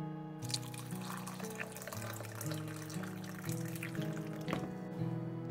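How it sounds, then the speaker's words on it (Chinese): Boiling water poured from a kettle into a cup holding cut, fire-roasted orange peel, a steady close trickle with the pitch rising as the cup fills. "切好以后放到一个杯子中，然后再倒入开水"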